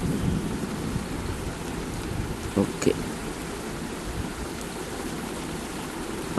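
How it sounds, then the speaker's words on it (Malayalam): Steady heavy rain pours throughout, a dense broadband roar with a couple of brief louder knocks midway. "നല്ല മഴയും ഉണ്ട്"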